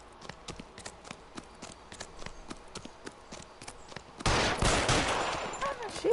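Gunfire in the video game L.A. Noire, a sharp sequence of separate shots at a steady pace followed by a louder burst of dense noise.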